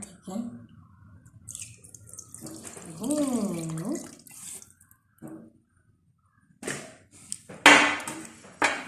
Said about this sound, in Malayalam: മസാല ഒക്കെ നല്ലോണം കുഴച്ചെടുത്തിട്ട് കുറച്ച് വെള്ളം വയ്ക്കാം